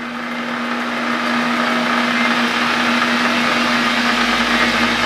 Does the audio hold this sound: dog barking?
no